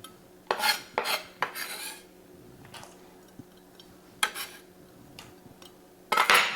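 Chopped onion added to wild rice and stirred, heard as a series of scraping, clinking utensil strokes against a pot or bowl at an uneven rhythm, with quiet pauses between them and a low steady hum beneath.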